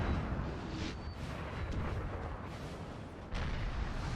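Artillery fire in the Napoleonic Total War 3 multiplayer battle, distant muffled booms rolling over a dense, noisy battlefield rumble, faint and continuous with a slightly stronger burst near the end.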